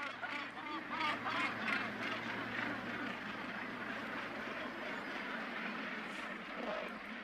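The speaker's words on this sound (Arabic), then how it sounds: "تتزاحم الطيور مع بعضها وتدافع عن أرضها بشراسة" A crowded North Sea seabird colony at the height of the breeding season, with dense overlapping squawks and honking calls as birds jostle and defend their nesting spots, loud and continuous.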